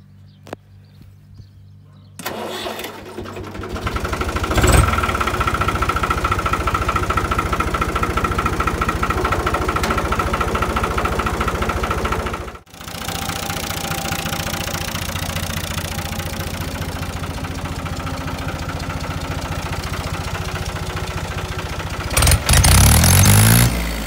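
A Fiat 540 Special tractor engine cranks and catches, then settles into a steady, loud idle with a brief dip midway and a revving burst near the end.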